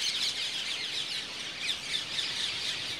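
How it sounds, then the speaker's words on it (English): Large flock of rose-ringed parakeets at dusk in tall palms and pines on Kauai, Hawaii: a dense, continuous wash of shrill squawks and chirps from many birds at once, steady and moderately distant, with no voices. "That's the sound of parakeets, hundreds, perhaps thousands of parakeets."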